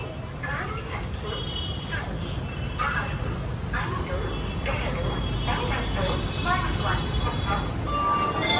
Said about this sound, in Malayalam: ഇതാണ് കൃഷ്ണരാജപുരം റെയിൽവേ സ്റ്റേഷനിലെ കുറച്ച് ഭാഗങ്ങൾ.